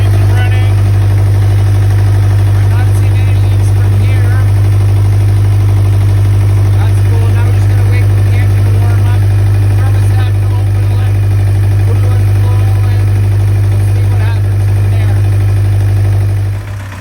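A sailboat's inboard engine idles steadily throughout, a strong continuous low hum with constant mechanical vibration, close and loud, while faint voices murmur underneath.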